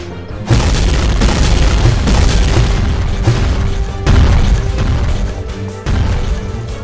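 Heavy booms from shooting a monster in Sakura School Simulator, three loud sustained blasts, each crashing in abruptly and rumbling on, with no voices.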